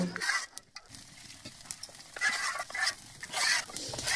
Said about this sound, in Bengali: আমরা একটু কড়া করে ভাজছি